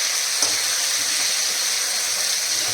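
A fish head fries in hot oil with a steady, bright sizzling hiss and no pause, close and fairly loud, with a faint spit or pop here and there.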